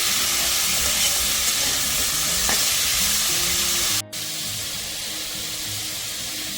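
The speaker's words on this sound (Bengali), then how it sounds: "এপাশে আমার সবজিটা ভাজা হচ্ছে" Winter vegetables fry with a little salt for vegetable khichdi, giving a steady, loud, close sizzle and hiss that runs the whole time, with a brief dip near the end and no voices.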